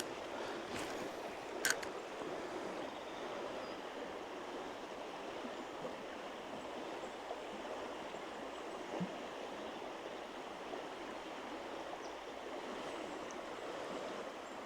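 A fast, swollen river running high after heavy rain, with steady broadband rushing water filling the whole stretch and a couple of faint knocks on top.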